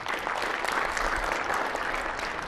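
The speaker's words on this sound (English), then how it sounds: "Round of applause for Manish." Dense audience applause in a conference hall at a SharePoint conference session, a steady wash of many hands clapping for the whole short stretch.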